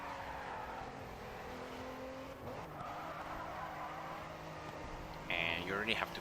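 Car engine in the video game GRID 2 drones steadily, then tires squeal sharply near the end as the car drifts through a turn.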